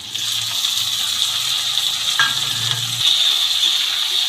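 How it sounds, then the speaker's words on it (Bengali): Potatoes, green chillies and tomatoes sizzle and fry in a pan while being stirred. A steady, loud hiss runs throughout, with soft scraping from the stirring. "এবার ভালো করে সবজিগুলো মেরে চেড়ে মিশিয়ে নেব"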